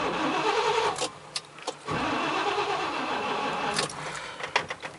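A 1993 GMC Sierra's engine is cranked by the starter for a few seconds, a loud steady churning with brief pauses, steering turned fully left and a weak battery, with a few short clicks near the end.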